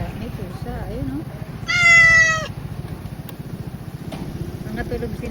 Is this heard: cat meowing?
yes